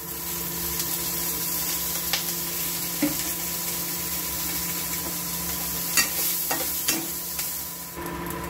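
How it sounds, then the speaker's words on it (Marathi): Onion frying in a little oil for a Kolhapuri dry mackerel chutney, a steady close sizzle with a few light stirring knocks scattered through. "हा कांदा पण तेल टाकून भाजून घ्यायचा। नॉर्मल तेल टाकायचं जरा।"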